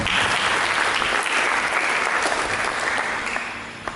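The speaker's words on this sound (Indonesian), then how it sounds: "Mari kita berikan tepuk tangan." Church congregation applauding during a sermon, a dense, steady wash of clapping from many hands that carries on loud throughout and eases off slightly near the end.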